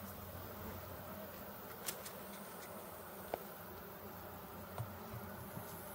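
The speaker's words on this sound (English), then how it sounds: "Accidentally took out a bee" Honey bees hum softly and continuously around an open beehive, a faint, even buzz with a few brief clicks and knocks from handling the hive frames.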